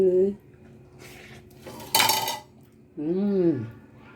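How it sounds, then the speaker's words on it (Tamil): A utensil clanks and scrapes against a pot while home-cooked vegetable noodles are mixed, giving a few short metallic knocks and one louder clatter, with someone talking before and after. "அதை தான் நான் எடுத்து மிக்ஸ் பண்ணிகிட்ருக்கேன்"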